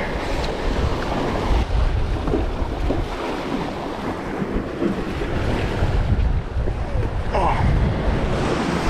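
Ocean waves surge and wash up a beach in a loud, continuous roar, mixed with wind noise on the microphone, and a voice briefly exclaims once partway through.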